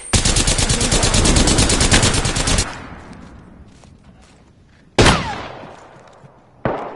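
Apex Legends gunfire: a rapid automatic burst rattles loud and close for over two seconds, then fades, followed by two more sharp single shots with ringing tails.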